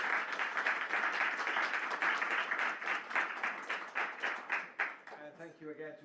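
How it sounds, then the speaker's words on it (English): Applause from the audience at the close of a conference presentation session, a moderate burst of clapping that thins out toward the end as a voice begins speaking. "Yes, final round of applause would be great."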